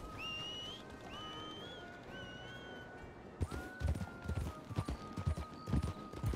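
Rhythmic hoof clip-clop of a horse in a western ranch roleplay video game, steady at first under a high whistled tone, then louder and more uneven with heavier thuds in the second half.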